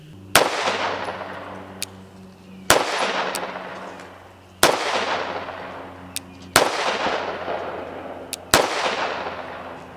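A Girsan 2311 Match X compensated pistol fires five loud, sharp shots at close range, spaced roughly two seconds apart, each followed by a decaying outdoor echo.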